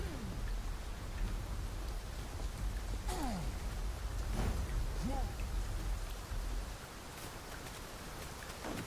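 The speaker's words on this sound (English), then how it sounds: "Must we do battle amidst this dreadful downpour?" Heavy, steady rain pouring down in the video game Dragon's Dogma 2, a dense continuous hiss that fills the whole stretch, with faint clicks and tones scattered over it.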